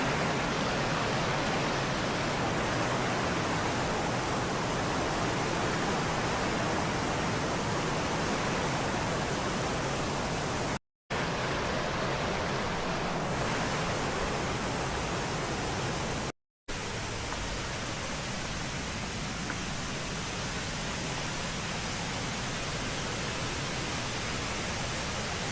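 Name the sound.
loud waterfall in a valley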